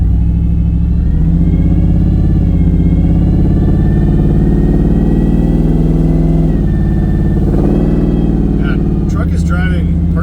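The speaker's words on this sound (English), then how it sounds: "Yeah, truck is driving perfectly, it seems," A supercharged Ford SVT Lightning pickup with a built motor drives along, its engine a loud steady low rumble with shifting revs as a person talks over it.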